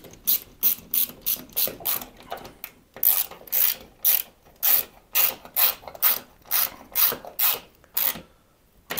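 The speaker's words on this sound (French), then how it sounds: "Alors, dernière vis à visser." The last screw is driven in while a home cinema speaker is mounted, giving a series of close, rhythmic ratcheting bursts of screwdriver clicks with short pauses between turns, and no talk over it.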